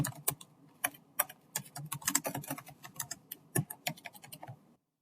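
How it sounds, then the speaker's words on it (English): Rapid typing on a computer keyboard, a steady run of close, crisp keystrokes with irregular rhythm that stops abruptly near the end. "Type in the full title of the Act you are looking for,"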